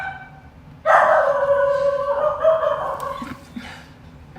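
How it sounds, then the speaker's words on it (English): A dog barks and yelps indoors in the background, one burst of strained, high-pitched vocalizing lasting a couple of seconds, then a few fainter yips trailing off. "she won't stop barking."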